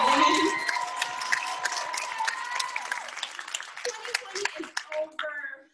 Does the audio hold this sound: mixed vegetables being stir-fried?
no